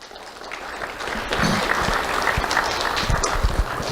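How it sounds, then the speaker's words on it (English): An audience at a school awards ceremony applauds the school board and superintendent, a steady wash of many hands clapping that builds slightly and then holds. "Let's give the school board and Dr. Bernier a round of applause."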